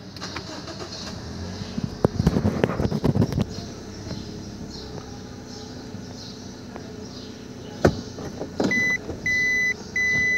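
A 2016 Toyota Premio FEX Package with a 1500 cc engine is push-started: a short cranking burst settles into a quiet idle, followed by a few clear electronic beeps near the end.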